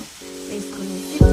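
Chicken masala curry fries in a pan, a soft, steady sizzle under a faint tonal hum that ends in a sudden louder hiss burst near the end.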